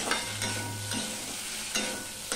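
Potatoes frying and being stirred in a pan for a Bengali cabbage dish, a steady close sizzle with periodic scraping strokes of the spatula against the pan, no talk.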